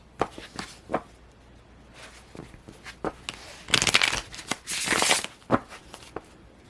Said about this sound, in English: Finally a deck I can actually shuffle.